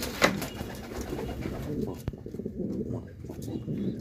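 Pigeons coo in a loft, soft throaty cooing throughout over rustling and handling noise, with someone talking through much of it.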